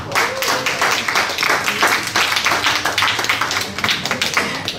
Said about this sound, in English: I want to ask you to give our readers a round of applause.